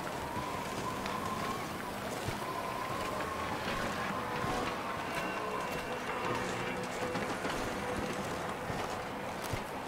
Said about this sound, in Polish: Znowu wiatr, tak?